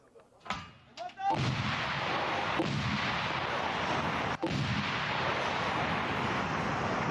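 A heavy artillery blast booms nearby in Donetsk region, followed by a long roaring rumble broken by a sharp crack, continuing steadily to the end.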